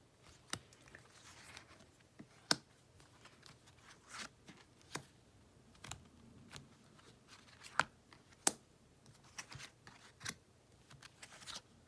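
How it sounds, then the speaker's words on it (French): A row of cards is laid out one by one on a table, each placement making a crisp little snap or tap, about a dozen quiet, irregularly spaced clicks over a faint background hush. "je vais mettre une troisième rangée de cartes"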